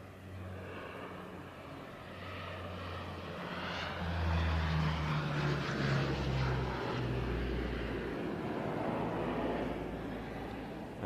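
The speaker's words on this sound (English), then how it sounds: "But now the C-130 approaches round Spotter's Corner and a steep topside pass from the right" A C-130 aircraft makes a low topside pass at the Leszno airshow, its propeller drone swelling as it nears, peaking mid-pass, then easing off slightly, heard from a distance.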